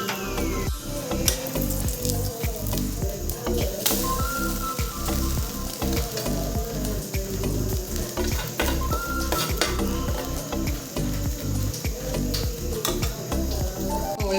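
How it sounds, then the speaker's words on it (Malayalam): Already-fried fish reheats in a hot pan, crackling with a steady sizzle while a utensil stirs and scrapes against the metal in quick repeated strokes, close up and with no talking. "മീൻ വറുത്തരിപ്പുണ്ട്, അതുകൂടെ ഒന്ന് ചൂടാക്കി എടുത്തിട്ട് നമുക്ക് പൊതി കെട്ടാവേ."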